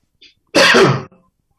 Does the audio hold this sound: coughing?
yes